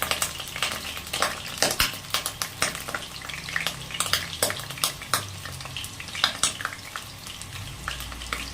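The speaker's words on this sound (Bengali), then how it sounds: "প্রথমে আলুগুলো ভেজে নেব।" New potatoes frying in oil in a pan for a Bengali broccoli dish, a steady close sizzle with frequent stirring scrapes and clinks of a utensil against the pan.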